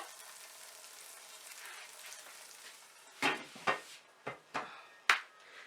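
A paprika and chile mixture sizzles steadily in a pan on low heat, a soft even hiss that is later broken by several sharp clacks and scrapes of stirring.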